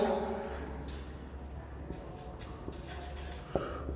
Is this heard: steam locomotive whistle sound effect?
no